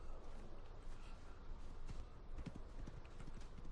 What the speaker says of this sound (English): And it gallops. You can hear it galloping.